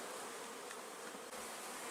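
Honey bees swarming around their hive, a dense, steady buzz that fills the whole stretch without pause, close and loud.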